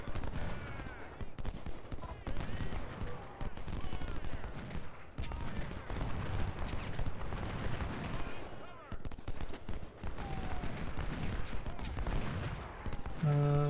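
Battle in Ultimate General Civil War with dense, continuous musket fire and booming artillery shots rattling throughout, a loud crackling barrage that barely lets up.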